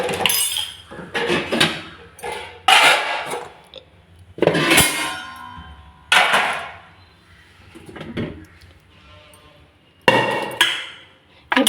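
Metal cooking pots and plates clang and clink in irregular bursts while being washed, close by, with scraping and splashing between knocks.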